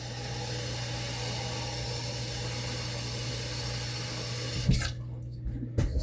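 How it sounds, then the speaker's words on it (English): Water runs steadily from a tap in a home kitchen as a pot is filled for cooking fufu, a continuous hiss with a low hum underneath, ending in a couple of clunks as it stops. "So I gotta pour 2 more cups of water."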